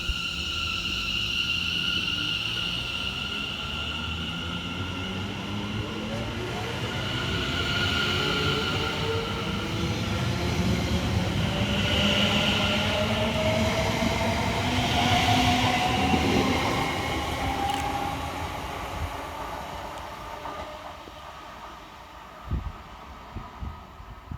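Two coupled Class 710 London Overground electric units pull away from a station, their traction motors whining upward in rising pitch while wheels clatter rhythmically over rail joints, loud and close before fading as they leave.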